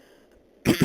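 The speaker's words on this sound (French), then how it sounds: "Vraiment désolé pour mes toussements." A single sharp cough, loud and close, with a double burst after near-silence.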